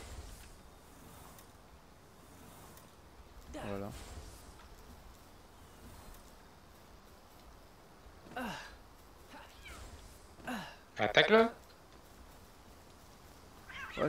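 Cat creature in the Palworld video game gives several scattered meows, soft at first and then a louder burst of yowling near the end, over a quiet background.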